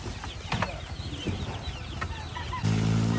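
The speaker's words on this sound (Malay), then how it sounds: "Itik ayam tu semua" Chickens cluck at a rainy morning market in Sungai Bayor, Selama, Perak, calling in short bursts over a busy background of passing motorcycles and engine noise.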